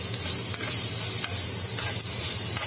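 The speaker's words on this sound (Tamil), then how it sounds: "வதக்கிட்டோம், இந்த அளவுக்கு வதக்கினா போதும், நல்ல வாசனை வந்துச்சு." Chopped onions, curry leaves and a small piece of ginger sauté in a hot pan, giving a steady close sizzle with periodic scraping stirs.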